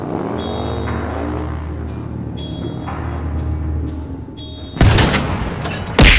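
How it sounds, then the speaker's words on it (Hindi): A sudden loud tank cannon boom bursts out after steady mechanical hum and tones, followed shortly by a second sharp blast, in a cartoon. "तभी टैंक की गोली चल जाती है।"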